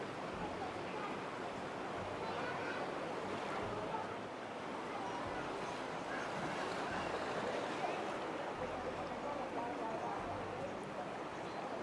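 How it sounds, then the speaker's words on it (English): Floodwater surging through a flooded street in Phuket Old Town, a steady broad rushing wash of water that holds a constant loudness from start to finish. "So it's flooded all out down into the old town."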